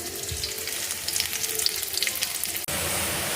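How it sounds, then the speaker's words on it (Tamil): Greens sizzle steadily in a hot pan, a constant frying crackle that briefly cuts out and resumes louder, sautéing greens for keerai poriyal. "கீரையை போட்டு வதக்கிட்டுருக்கேன்"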